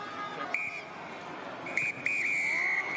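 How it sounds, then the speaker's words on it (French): At a Poland versus Portugal rugby match, the referee blows a short whistle blast and then a long, sustained shrill one ending the game, heard over a steady crowd murmur. "l'arbitre qui siffle la fin de la rencontre"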